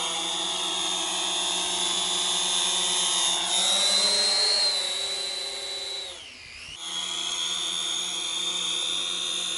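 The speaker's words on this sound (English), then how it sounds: "Push the left stick up to start the drone and then press the takeoff button." A Syma X500 folding drone lifts off in a garden and hovers, its rotors giving a steady high-pitched whine that shifts in pitch as it climbs and holds position. The sound is loud and continuous with no talk.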